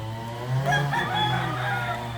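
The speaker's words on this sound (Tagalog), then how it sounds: "Dami, daming manok dito." A rooster crows once, fairly close, its drawn-out call rising and falling over a faint steady hum.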